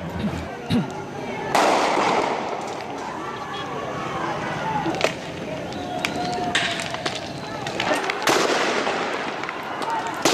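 Bombs or firecrackers go off during a street protest, several sharp bangs scattered among crowd noise and shouting voices.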